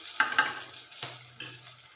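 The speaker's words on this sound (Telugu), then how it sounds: "ఇవన్నీ ఫ్రై చేసుకున్న తర్వాత ఇంకా ఈ పుదీనా కూడా వేసేసి మంచిగా ఫ్రై చేసుకోవాలి." Mint leaves tossed into a hot pan and fried, with brief stirring scrapes and a soft sizzle following each stir, close and fairly quiet.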